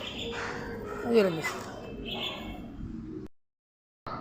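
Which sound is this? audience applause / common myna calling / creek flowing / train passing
common myna calling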